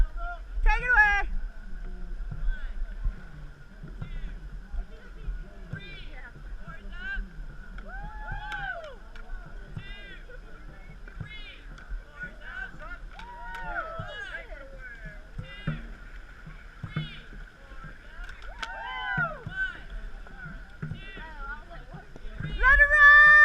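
Dragon boat paddlers stroke through the water at a festival race, with faint rhythmic splashing under shouted crew calls, whistles and crowd chatter.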